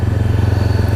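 A Honda CBR500R fitted with an Akrapovic exhaust rumbles loud and close on the road, its engine pulsing in a steady, rapid beat with a deep throb.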